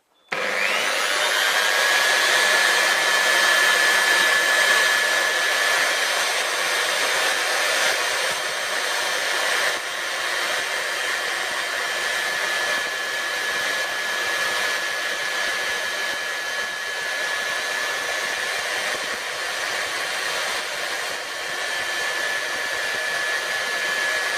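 A motorcycle bolt head from a 2017 Harley-Davidson XG 750 Street gets its domed part polished down, with a steady high-pitched whine from a spinning tool running continuously and close, changing little in pitch.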